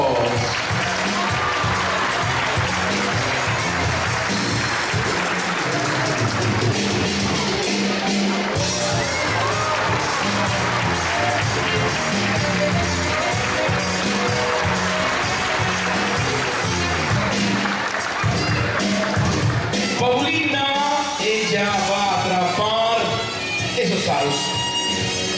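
An audience claps and cheers steadily for pirouettes at a lively show, dense crowd noise with shouting children running throughout, while a host talks over the din.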